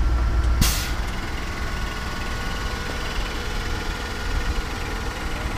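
A bus engine runs steadily after starting, with a sharp hiss of air brakes near the start and a continuous loud rumble close by; no talking.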